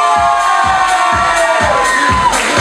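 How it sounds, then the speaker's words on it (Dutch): An audience claps and cheers for a Miss Fashion 2016 semi-final finalist, a steady crowd roar over rhythmic low thumps of background music. "Mag ik ook een applaus voor Ashley Smets?"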